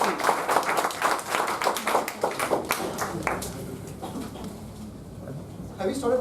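Applause from a small audience at a debate evaluation meeting breaks out as scattered, uneven claps that thin out and fade toward the end, heard at moderate volume in a room.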